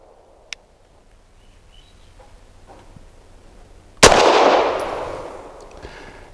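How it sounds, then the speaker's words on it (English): A single sharp, loud shot from a Grand Power LP9M Makarov pistol cracks out after a quiet stretch and trails off into a long echoing decay, with a faint click earlier on. "All four loads when shot at that pace, very comfortable in this firearm."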